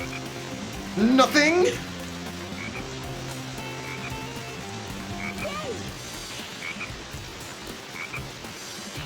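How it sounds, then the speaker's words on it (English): A frog croaks in the video game Sonic Heroes, one loud warbling call followed by fainter repeats over a steady background of game ambience, with a person talking in the clip. "Look, there's a frog over there."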